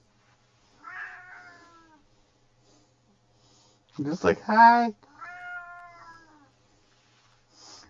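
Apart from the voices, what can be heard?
cat meowing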